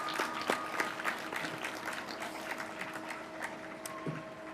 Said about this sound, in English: Graduates, can you give these people a quick round of applause for all they've done for you?